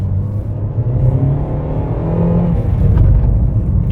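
A Fiat Panda accelerating up a hill from inside the cabin, a steady loud engine drone and road rumble that builds slightly as the revs climb, with no voices.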